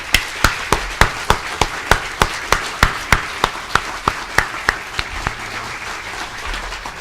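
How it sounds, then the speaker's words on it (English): Guests at a Swedish embassy event applaud Nobel Prize laureates with a loud, steady round of clapping, and sharp, evenly spaced claps cut through the crowd's applause. "Give them all a big round of applause"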